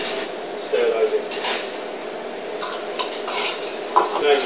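Medium curry spice being stirred into a pan with chopped shallots, yellow lentils and tomato puree: soft scraping and light utensil clinks over a faint sizzle, close by, with scattered louder knocks.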